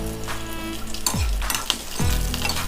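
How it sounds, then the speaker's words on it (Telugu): Cashews and green chillies frying in hot oil for a chicken and liver curry, a steady close sizzle with stirring scrapes and a couple of sharper clinks from the pan, no voices. "జీడిపప్పు మనకు తెలుస్తుంది వేగుతుంది. పచ్చిమిర్చి కూడా ఎలా వేగిందో"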